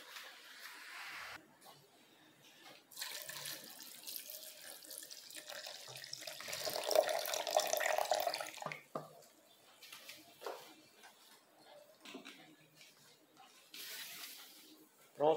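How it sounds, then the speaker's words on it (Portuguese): Water runs into a basin while corn canjica is prepared, a steady splashing flow that swells midway and then tapers off into quieter trickles. "Aí coloco aqui mais água."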